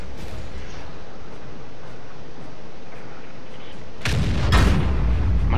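Two sharp tank cannon blasts in the World of Tanks video game land close together near the end, booming loudly over a steady low background hum of the battle.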